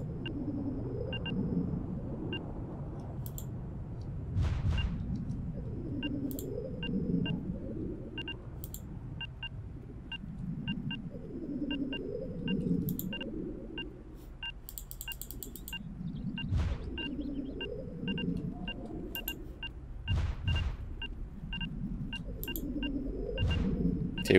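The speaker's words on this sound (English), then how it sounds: "Sounds like a psi storm." A psi storm in the S.T.A.L.K.E.R. Misery game rolls in as a deep, pulsing rumble that swells and fades in waves, with regular high pings and eerie beeps repeating over it and no voices.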